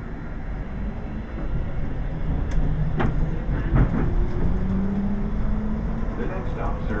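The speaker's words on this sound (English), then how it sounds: "Please hold on. This train is departing." The Skylink airport people-mover train at Dallas/Fort Worth pulls away, a steady low rumble joined by a rising electric motor whine and a few sharp rail clicks, with a muffled voice faintly present at times.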